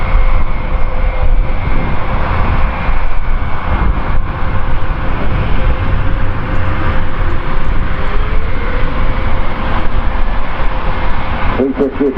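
An Airbus A350 jet airliner begins its takeoff run at the Farnborough Airshow, a loud, steady roar of turbine engines with a broadband rumble that holds throughout, heard from a distance across the airfield while a commentator talks over it.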